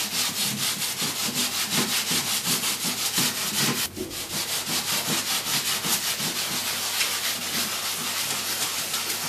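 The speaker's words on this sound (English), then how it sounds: "All I've got is a bit of sandpaper wrapped around a sanding block, so it's easy to handle." Sandpaper wrapped around a sanding block rubbed over a wooden modular trench base, a loud, steady rhythmic scratching of back-and-forth strokes with one brief pause, no talking.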